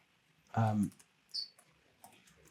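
Typing on a computer keyboard: a few soft, sparse key clicks and taps, close and quiet, with a brief thump near the start.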